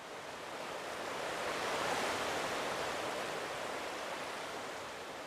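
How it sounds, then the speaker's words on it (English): Sea waves at the port in Tomodachi Life wash in as a soft, continuous surf roar that swells gently and holds steady, with no voices. "you can still like go into it and just listen to the sea and stuff"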